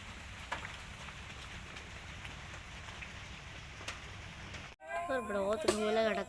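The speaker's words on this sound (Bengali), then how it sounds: "শুধু বৃষ্টি আর বৃষ্টি।" Steady rain falls in a dark Bangladeshi village, a soft, even patter on surfaces that continues for several seconds before a person starts talking near the end.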